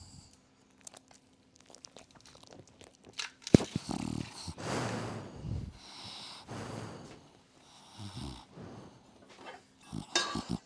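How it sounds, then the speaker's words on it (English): A flat-faced brachycephalic dog snores and snorts in its sleep, with irregular close snuffling bursts and rough breaths after a quieter start, some rustling mixed in. "Brachycephalic dog snoring."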